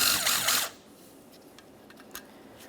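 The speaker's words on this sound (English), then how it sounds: "To remove this, we're removing 3 8mm headed mounting bolts." A power tool whirs in a short, loud burst on a 2004-2008 Ford F-150 steering knuckle as 8mm-headed mounting bolts come out of the actuator, then cuts off into quiet shop background with a few faint clinks.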